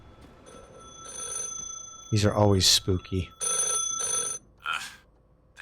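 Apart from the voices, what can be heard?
telephone ringing in The Last Caretaker video game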